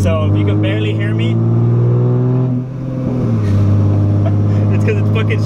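A Nissan 350Z with a straight pipe exhaust idles and revs loudly up close, a deep droning engine note that dips briefly and then swells again, continuous throughout.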